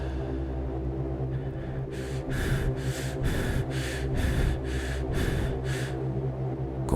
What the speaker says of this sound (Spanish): Una respiración, jadeante,